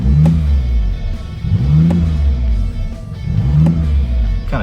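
A BMW i8 with a custom titanium intake heard from inside the cabin, revving in three repeated throttle blips, each a loud rising and falling engine surge with a breathy intake sound.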